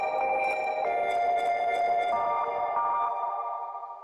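A reversed, resampled sound drenched in heavy reverb swells as layered, sustained tonal smears that shift pitch in steps, then thins out and fades toward the end.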